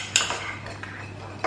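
A whisk clatters against a bowl while egg yolks are beaten with cider vinegar and a heaped teaspoon of Dijon mustard, giving close, quick metallic taps with no talk.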